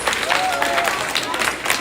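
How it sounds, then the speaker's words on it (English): Applause from an audience at a 5th grade awards ceremony as Mr. Heis's class is honored, a steady wash of clapping with a voice or two mixed in, fairly close and sustained throughout. "Let's give them a round of applause"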